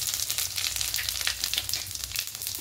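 Whole five-spice seeds and two dried red chillies hit hot oil for a Bengali pui shak curry with chickpeas, giving a steady, close crackling sizzle with dense bright spitting throughout and no voices.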